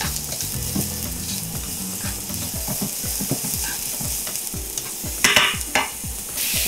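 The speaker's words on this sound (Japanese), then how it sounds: "でキノコをしっかりと炒めてあげて、" Mixed mushrooms being sautéed in a pan with oil for pasta, with a constant close sizzle and repeated rhythmic scraping strokes of stirring, plus a brief louder clatter near the end.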